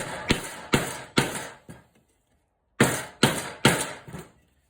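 A lump of wood strikes the metal of a Land Rover Series tailgate, giving sharp hammering knocks: four blows in a rhythmic run, a pause, then four more, each fading quickly.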